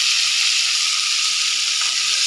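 Onions sautéing in a pan, a dense, even hiss of frying that holds steady and close throughout the short stretch, with no voices over it.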